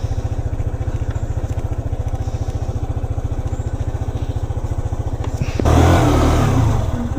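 Mike's motorcycle engine idles close by with a steady rapid thumping, then is revved hard near the end into a louder, rougher roar, with no talk over it.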